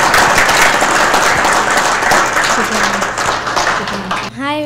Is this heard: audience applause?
yes